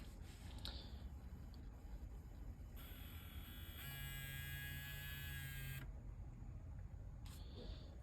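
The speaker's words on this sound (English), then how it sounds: "Motor's trying to spin up." A faulty disc drive's motor strains to spin up, a faint electric whine rising with tonal buzzing for a couple of seconds, then cutting out, over a low steady background hum.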